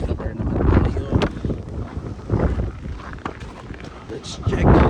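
Strong snow-blizzard wind gusts and roars against the microphone in rough, buffeting surges that swell and ebb, with talk mixed in beneath the noise.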